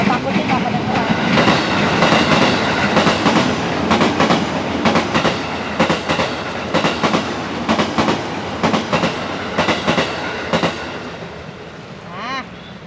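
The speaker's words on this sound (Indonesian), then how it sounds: "Kita tunggu kereta lewat dulu, takutnya nggak kedengeran." A train passes close by, a loud continuous rumble with rhythmic clickety-clack of wheels over rail joints that thins out toward the end, with faint voices underneath.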